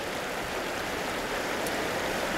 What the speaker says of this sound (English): it makes really good foreground impress with the water just flowing down, flowing around that